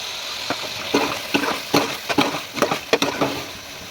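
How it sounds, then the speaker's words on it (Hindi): Moringa flowers are stirred into a frying chicken masala, producing a rhythmic series of close, moderately loud stirring scrapes and squelches over a soft sizzle; no talking. "अब हम इसमें ये स्वांजना डालेंगे"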